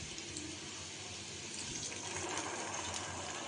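Water poured into a thin spice curry of chili powder and ginger, a steady close pour that runs on for several seconds with no talk.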